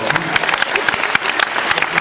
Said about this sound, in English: I was fishing for applause.